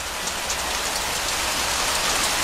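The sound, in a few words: rain falling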